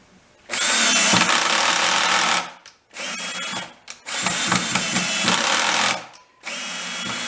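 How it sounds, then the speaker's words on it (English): A cordless drill with its clutch engaged drives screws into birch wood for a coffee table, three loud whirring runs separated by short pauses, close and without talk. "I use the clutch so I don't strip out the threads, right? Because it's only wood."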